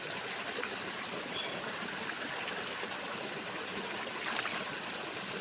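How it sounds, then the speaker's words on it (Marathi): Cold, clear water running down from a mountain spring in the Konkan countryside, an even rushing trickle that stays steady and moderately close throughout, with no voices. "वरच्या झऱ्यातून येता एकदम शुद्ध थंडगार पाणी असा"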